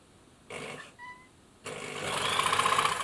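A Bernina 810b sewing machine runs in short bursts, then kicks into a fast, steady whirring hum with an evenly repeating needle beat, close up and without talking.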